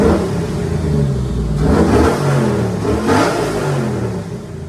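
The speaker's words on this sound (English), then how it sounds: "coming back from tuning on Nick's truck with that brand new 370 we built him" A truck fitted with a newly built 370 engine revs and accelerates in two strong surges, a loud, close, mid-pitched engine roar with no talking over it.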